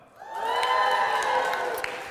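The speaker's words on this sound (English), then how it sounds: "So give me a cheer if you vote for Starbucks." Audience at a church service cheering and whooping together in a sustained, loud crowd roar that swells in and holds steady, with scattered shouts on top.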